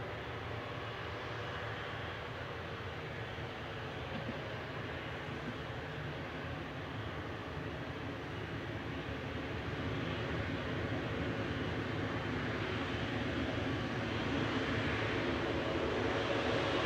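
An Etihad Boeing 777-300ER at Manchester Airport gives off a steady, even jet roar that stays fairly faint and distant for the whole stretch, with no voices over it.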